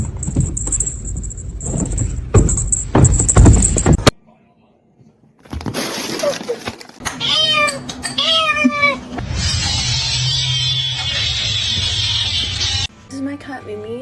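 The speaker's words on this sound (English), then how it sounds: "This is my cat, Mimi." A pet cat meows several times in short, nasal calls at close range, broken by a pause, rustling and handling noises, with a sustained whiny caterwaul near the end.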